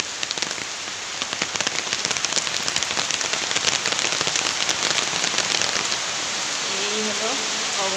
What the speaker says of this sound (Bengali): বৃষ্টিটা মনে অনেকটা জোরে এসছে।